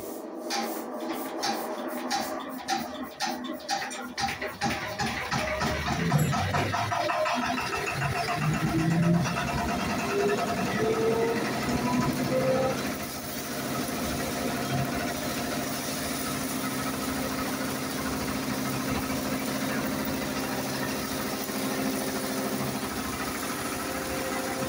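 A maize flour milling machine, started manually in an African village, runs with a steady rough mechanical drone and vibration. Sputtering, uneven pulses early on give way to a continuous, loud grinding hum.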